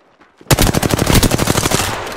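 Automatic gunfire in the video game Apex Legends: after a brief quiet start, a loud close burst of rapid shots rattles on for nearly two seconds before trailing off.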